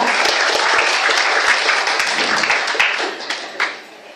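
A room full of people applauds for SBK, a loud and dense patter of many hands that keeps going for a few seconds and then thins toward the end.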